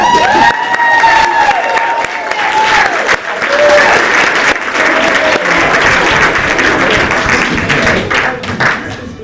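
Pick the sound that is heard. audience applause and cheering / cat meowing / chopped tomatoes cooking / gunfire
audience applause and cheering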